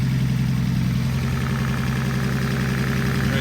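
Nissan S13 engine running at a steady idle, a continuous low rumble with a faint regular knock, close by and alone with no talk.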